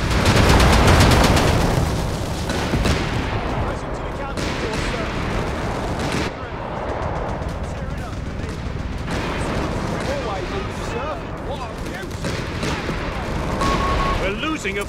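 Sustained machine gun fire and distant explosions from a Company of Heroes 3 World War II battle, rattling continuously under unit voice callouts and battlefield chatter.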